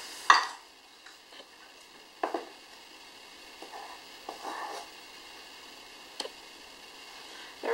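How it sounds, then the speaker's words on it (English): Whole wheat pizza dough is stirred in a bowl with a wooden spoon, giving scattered soft scrapes and knocks with quiet gaps between them and no talking. "So now we're just going to mix it up. I use a wooden spoon."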